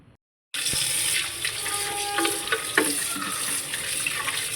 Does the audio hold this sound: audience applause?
no